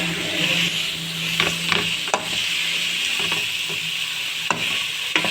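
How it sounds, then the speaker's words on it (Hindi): Vegetables for chowmein being lightly stirred in a hot pan, a soft continuous sizzle with scattered sharp scrapes and clinks of a utensil against the pan. "अब ये हम तो हल्का सा मिक्स कर लेंगे ताकि ये सब्जियां क्रंची रहें"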